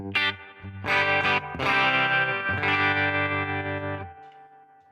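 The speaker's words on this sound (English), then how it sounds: "And also turn up the reverb." An electric guitar plays a few strummed chords with a shimmering tremolo effect from a modeler, then the last chord decays into a spacious reverb tail.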